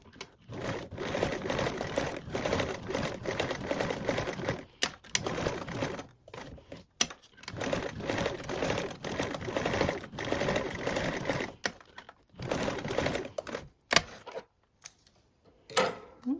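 A sewing machine bastes a seam with an eighth-inch allowance, its fast rattling stitch running in several bursts of a few seconds each, separated by short pauses and light clicks, close and fairly quiet.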